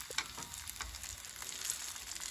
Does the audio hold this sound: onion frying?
yes